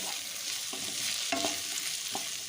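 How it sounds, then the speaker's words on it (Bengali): Tomato and capsicum frying with onions in a pan, a steady close sizzle with a few soft stirring scrapes, no voices. "পেঁয়াজের সাথে টমেটো ক্যাপসিকামটা অল্প কিছুক্ষণ একটু ভেজে নেব"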